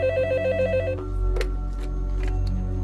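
A phone rings in a repeating electronic trill, loud and close, then gives way to a steady hum with a few short clicks.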